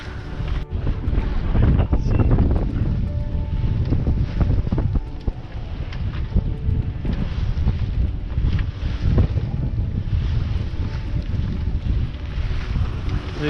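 A sailboat pushes through short, steep waves in strong wind, with loud, continuous wind buffeting and rushing water throughout and no clear speech.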